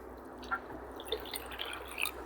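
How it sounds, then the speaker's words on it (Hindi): Water poured from a glass onto cotton gives a few soft, close drips and trickles over a steady low background. "इस पानी को इस कॉटन में हम डाल रहे हैं।"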